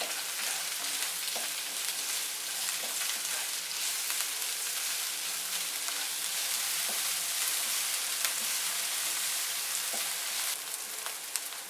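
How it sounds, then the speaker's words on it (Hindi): Sliced onion and capsicum fry in oil in a kadai, an even, dense sizzle running throughout with occasional faint ticks of stirring and no talking. "प्याज और शिमला मिर्च को मैंने तकरीबन 2 मिनट फ्राई कर लिया है"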